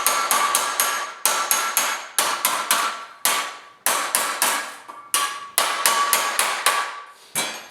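Sharp hammer strikes on a dolly against the steel body panel of a 1939 Chevy two-door, ringing metallic blows in quick bursts of three to six with short pauses between, close and loud with no talking.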